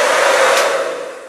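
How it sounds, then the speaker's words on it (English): A steady, loud Conair Infinity Pro blow dryer roar with a diffuser on, drying hair, blowing continuously and fading slightly at the end. "blow dryer with a diffuser attachment to dry my hair a little bit."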